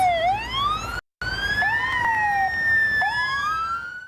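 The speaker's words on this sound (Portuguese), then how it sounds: "Sirenes ligadas em homenagem ao colega assassinado em serviço." Police car sirens wail in a funeral procession for a murdered officer, driving from Porto Alegre to the municipal cemetery in Guaíba; a loud, close, sweeping rise-and-fall with overlapping tones, briefly cut out for an instant.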